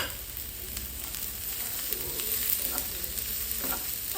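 Long beans sauté in a pan with a continuous close sizzle, with occasional stirring scrapes and light clinks over it.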